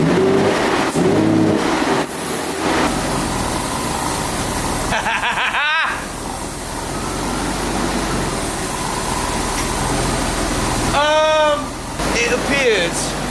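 A stock V12 Jaguar idles and drives close by, its engine a steady loud rumble with a couple of brief revving rises and squeaky whines over it, while people talk nearby.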